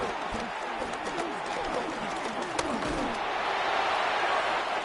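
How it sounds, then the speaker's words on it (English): Steady crowd noise fills a football stadium after an incomplete third-down pass, a broad wash of applause and murmur that holds at an even level throughout. "We're going to give out a little applause on that play."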